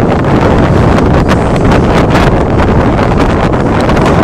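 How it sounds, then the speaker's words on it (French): Strong wind blows outdoors, a loud continuous roar buffeting the microphone throughout with gusty surges and no voices. "Avec en même temps cette force du vent, cette force de changement."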